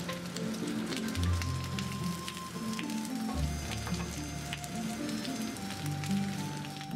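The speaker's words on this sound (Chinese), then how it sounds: "在煸炒的过程中加入大料、辣椒、姜和葱。" Pork belly stir-fried with star anise, chili, ginger and scallion for clay-pot braised pork, a steady close sizzle with crackling pops and a low humming tone under it, no talking.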